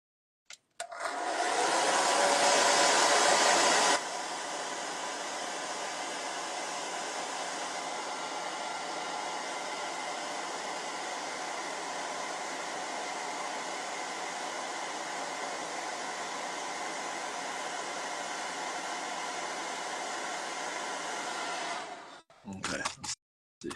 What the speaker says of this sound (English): So I'm gonna hit it with the hairdryer again.